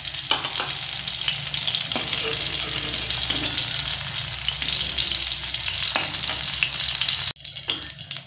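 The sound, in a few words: vegetables frying in oil for sukto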